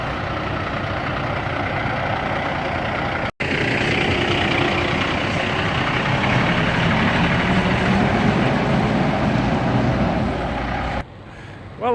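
A truck rumbles steadily at close range for several seconds, with a brief cut partway through, then the engine drone carries on as it pulls away down a driveway.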